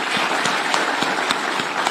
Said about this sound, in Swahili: Tafadhali tumpigie makofi tena.